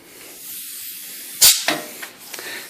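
Compressed air bursts from a small two-way valve on a shop-built knife grinding jig beside a belt grinder: one sharp loud hiss followed by a few shorter, fainter puffs against quiet room tone.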